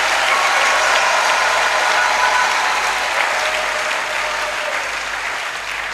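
Church congregation applauding the pastor's parents, a dense, steady wash of clapping from many hands that holds strong throughout and tapers only slightly toward the end.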